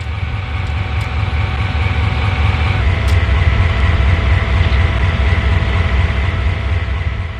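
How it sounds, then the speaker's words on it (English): A general-purpose Type 38 locomotive in the video game Train Sim World 2 produces a loud, continuous low engine rumble with steady mechanical drone and a few faint higher clinks. "This is the latest generation general-purpose Type 38 locomotive."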